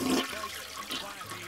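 A toilet flushing close by, a short loud rush of swirling water that tapers into gurgling drainage.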